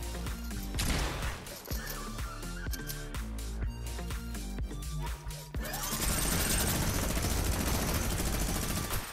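Rapid video-game minigun fire rattles in bursts, separate blasts at first, then a dense, continuous loud roar of gunfire over the last few seconds.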